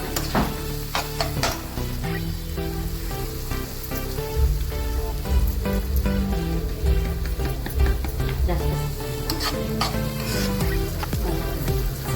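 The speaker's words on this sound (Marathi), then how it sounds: "चांगला परतून घ्यायचा" Ingredients for a cashew curry sizzle loudly in hot oil, a constant close crackle broken by repeated scrapes and knocks of a spoon stirring the pan.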